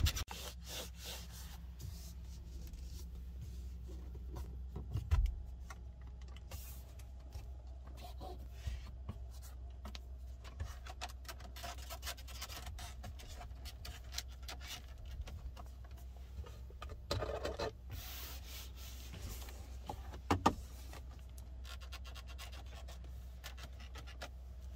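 Hand presses on the centre of a Skoda Enyaq Coupe RS iV dashboard inside the car, giving faint, quiet creaks and rubbing scratches in a still cabin, with a few sharper creaks standing out.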